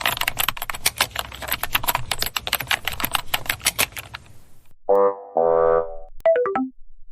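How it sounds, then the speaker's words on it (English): Rapid clattering keystrokes on a computer keyboard as every button gets pressed in turn, a dense run of close clicks for about four seconds, followed by short electronic game beeps and a descending tone. "I'll try every button on the keyboard"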